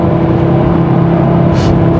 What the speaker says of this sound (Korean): 이 배기음도 굉장히 좀 우렁차고 하드코어해집니다.